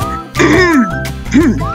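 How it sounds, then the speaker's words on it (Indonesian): A single short throaty cough breaks through a background of steady music, close and fairly loud. "batuk sedikit dulu ya"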